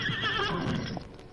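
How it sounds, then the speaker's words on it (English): A jet-black horse neighs close by, a loud, wavering whinny that trails off after about a second, followed by faint shuffling. "A short time later, Thunder, a jet-black horse with beautiful lines,"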